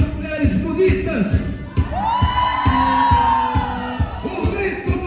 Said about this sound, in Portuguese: O grito das mulheres bonitas.